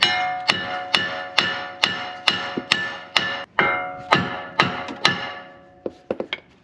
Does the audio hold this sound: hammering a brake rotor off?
yes